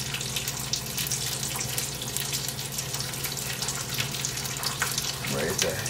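A kitchen tap runs steadily while breakfast is cooked, a continuous hissing rush of water close by that stays even throughout, with a faint sizzle mixed in.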